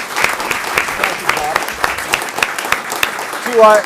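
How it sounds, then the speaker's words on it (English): Audience applause follows a county executive candidates forum, with a steady patter of clapping from a modest crowd lasting a few seconds, close and fairly loud, as a voice briefly speaks at the very end. "But we want to please give our candidates a round of applause for a great forum."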